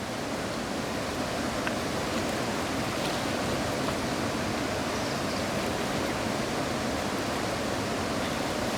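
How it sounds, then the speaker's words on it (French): River rapids at the start of the Enki falls: a dense, constant roar of rushing water with no break, loud and unchanging throughout, with no voices. "nous arrivons au rapide qui marque le début de la zone des chutes Enki"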